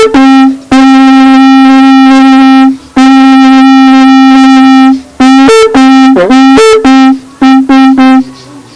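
Traditional Luo oporo horn played in long sustained blasts, then shorter bursts, wavering pitch bends and quick stabs toward the end, loud, close and with no talking, recalling a funeral escort call.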